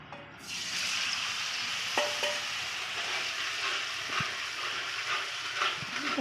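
Spice masala frying in about a spoonful of hot oil for a paneer dish, a steady close sizzle throughout with occasional scraping clinks of a stirring spoon.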